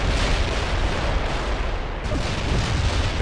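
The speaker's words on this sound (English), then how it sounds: "we'll just go for a bunch of heavy artillery" Heavy artillery bombardment in the World in Conflict strategy game, a continuous dense roar of overlapping blasts and rumbling impacts filling the whole clip, loud and sustained with no clear gaps.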